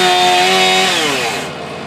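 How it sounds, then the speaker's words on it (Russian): A chainsaw cuts through dry trees in a settlement, the loud motor whining at high revs close by, then dropping in pitch as it bogs into the wood and fades toward the end. "Сухие деревья пилят и в поселке Шмидта"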